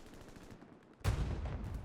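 Anti-tank gun firing at a Panzer IV in a World War II video game match, a single sharp loud blast landing abruptly after a quieter stretch and trailing off into a rumbling decay, with no voices.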